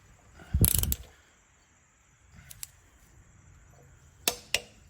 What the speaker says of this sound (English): when you hear that click, that means that this has met the torque and you don't need to go any farther